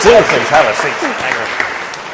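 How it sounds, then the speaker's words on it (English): Audience applause for a guest at Christ Church, a broad wash of clapping that swells and then thins over about two seconds, with someone speaking over it. "warm round of applause, please"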